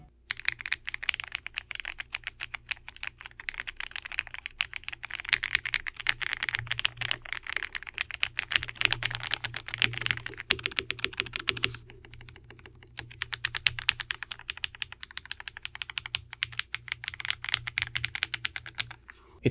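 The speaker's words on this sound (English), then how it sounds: "Here's a quick typing test so you can hear it for yourself." Fast, clacky typing on a Redragon Antonium K728 Pro mechanical keyboard, continuous bursts of crisp keystrokes close up with brief pauses, no talking.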